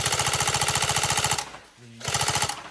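Upgraded Tokyo Marui SCAR-H NGRS airsoft electric gun firing on full auto, a loud, rapid, evenly pulsed mechanical rattle close up, pausing briefly with a low hum before a second burst.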